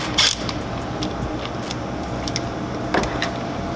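Parts of the dual intakes on a Nissan 370Z or G37 are wiggled free during a long tube header install, giving close plastic creaks and rubbing over a steady hum, with two sharper clicks.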